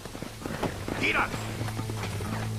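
Horse hooves in the video game Red Dead Redemption clip-clop in a quick, steady rhythm over a low background hum, with a brief higher cry partway through.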